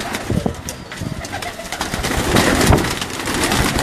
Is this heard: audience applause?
no